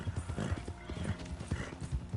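Horse hooves gallop in Red Dead Online, a steady rapid clip-clop rhythm close by and fairly loud, with a brief whinny amid the hoofbeats.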